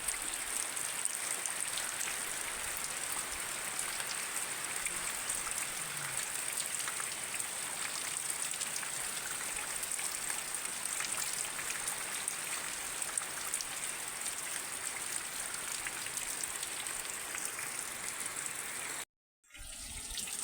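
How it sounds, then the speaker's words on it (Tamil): Steady rain falls outdoors in a vegetable garden, a dense, even patter of drops that continues for about twenty seconds at moderate level with a brief dropout near the end, and no talking. "மழை பெய்யுது பாருங்கள்"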